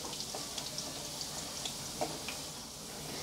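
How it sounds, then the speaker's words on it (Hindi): Garlic and cumin fry in a pan with a soft, steady sizzle and a few faint crackles and ticks, fairly quiet and even throughout with no talking. "थोड़ा सा लहसुन और ज़ीरे को हम अच्छे से फ्राई कर लेते हैं"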